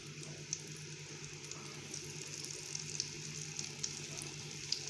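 Bsaria fish sizzle and crackle steadily in hot oil, a close, continuous frying hiss with small pops scattered throughout and no talking.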